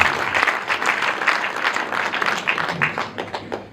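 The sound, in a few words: audience applause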